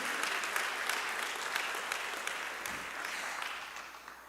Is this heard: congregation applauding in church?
yes